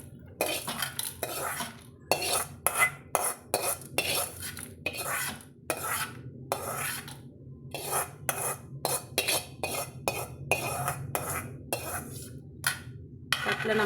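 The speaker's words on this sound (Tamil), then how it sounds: "இப்போ இதை எடுத்து நம்ம ஒரு தட்டில் கொட்டிக்கலாங்க." Roasted chana dal tipped from a pan onto a plate, with repeated clinks and scrapes of metal cookware and a steady rattling patter of dry lentils, close and fairly quiet.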